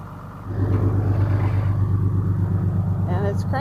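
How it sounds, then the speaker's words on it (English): A Wanderlodge bus engine cranks with a low, steady, rhythmic rumble that starts suddenly and continues evenly at close range, with a voice briefly heard near the end. "And it's cranking."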